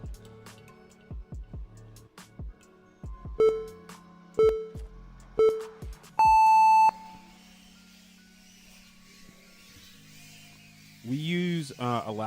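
Drone race start tones: three short identical beeps a second apart, then a longer, higher start tone, amid clicking and a low electrical hum, followed by a whirring motor sound near the end.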